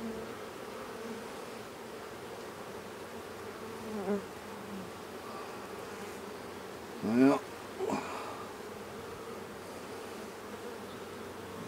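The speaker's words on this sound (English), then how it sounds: "This one's getting pretty full of bees." A steady, dense hum of honey bees fills a hive inspection, holding at a low, even level with a few brief louder swells. A voice speaks faintly once.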